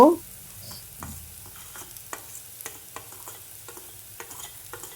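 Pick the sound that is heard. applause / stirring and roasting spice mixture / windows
stirring and roasting spice mixture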